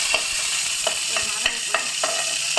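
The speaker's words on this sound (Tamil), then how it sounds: "இந்த கடுகு வெடிக்கிறது" Mustard seeds splutter in hot oil while tempering for a Tamil cowpea curry: steady sizzling with a series of sharp little pops, about one every half second, close by and fairly loud.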